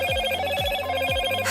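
A Moto G6 Plus phone rings loudly and close by, a tonal ringtone with repeating pulsed chimes, about three rhythmic beats in quick succession.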